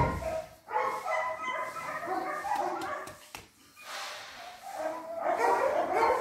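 Mastiff puppies bark and yip in a lively, uneven stream of high, close barks and whimpers, with a brief lull midway before the yapping picks up again.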